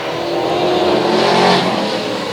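Short-track race cars charging off the green flag start at Sauble Speedway, a loud, dense roar of many engines accelerating together, swelling and then easing slightly as the pack passes.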